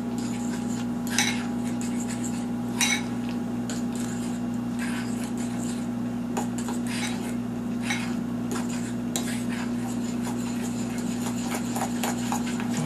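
Vegan buttercream frosting being worked by hand with powdered sugar: scattered clinks and scrapes of a utensil against a bowl, irregular and moderately close, over a constant low electrical hum.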